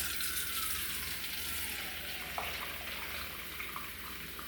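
Steady rushing water pours from a tap into a sink, a constant hiss with no talking.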